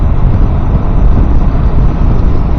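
Triumph Tiger 1200 GT Explorer motorcycle with a T-plane crank engine riding along, a loud steady broadband engine and road rumble with wind noise, continuous throughout with no talking.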